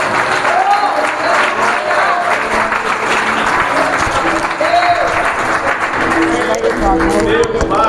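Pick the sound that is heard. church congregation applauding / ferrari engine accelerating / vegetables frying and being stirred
church congregation applauding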